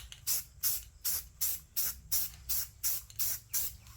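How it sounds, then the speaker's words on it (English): Spray paint can hissing in about nine short, evenly spaced bursts while painting a model railroad depot, each a bright airy hiss, close and fairly loud, with no talking. "See how that spray comes out?"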